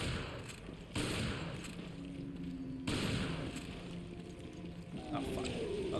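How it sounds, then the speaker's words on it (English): Shotgun blasts in Resident Evil Revelations, two loud booming shots about two seconds apart, each followed by a sustained rumbling tail over dense game noise and a faint tonal hum. "Shotgun."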